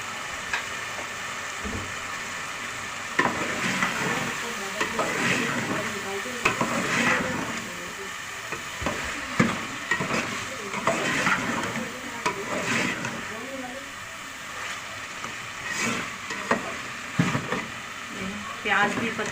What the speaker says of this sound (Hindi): अब इसमें हम डाल देते हैं हरी मिर्चें।